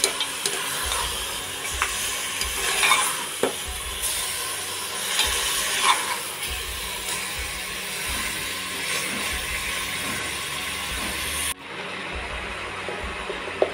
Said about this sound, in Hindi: मैं गोश्त को 5 मिनट तक भून लूंगी।